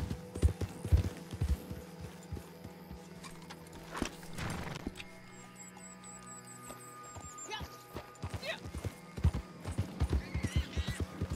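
Horse hooves clop in Red Dead Redemption 2, a steady galloping rhythm running nearly throughout with a brief whinny, under game noise and an occasional voice.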